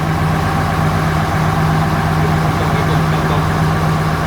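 A generator engine at a coffee factory in Papua New Guinea runs steadily at idle, a loud, continuous low droning hum with a constant mechanical tone throughout.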